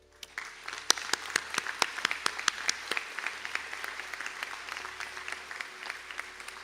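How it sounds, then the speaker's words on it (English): Audience applause at a college conferring ceremony in a hall: a few distinct early claps swelling into steady clapping from many hands, continuing evenly to the end at moderate volume. "applause."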